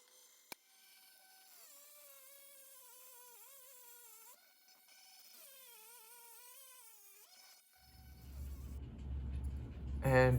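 A cheap $30 Dremel rotary tool grinds agate with a thin, high whine that wavers in pitch as the load changes, then gives way to louder rumbling handling noise near the end.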